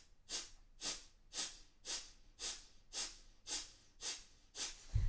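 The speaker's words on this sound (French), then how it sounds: "et pratiquer la respiration du feu" Breath of fire in a kundalini yoga practice: forceful rhythmic breaths, about nine evenly spaced puffs roughly half a second apart, close and alone.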